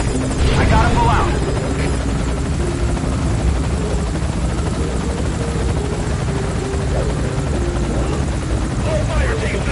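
A helicopter in the video game Metal Gear Solid V: Ground Zeroes drones loudly and steadily for the whole stretch, its rotor roar filling the scene while voices talk over it.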